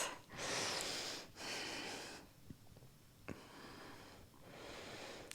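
Slow, deep breaths during a morning yoga flow, long airy inhales and exhales with a soft sniff and brief pauses between them, close and quiet with no talking.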